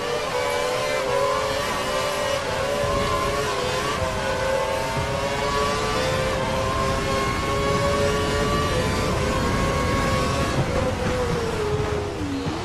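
Formula 1 race car engine in a racing video game, a sustained high revving whine with shifting pitch bands, loud and continuous, ending in a brief dip as the revs drop.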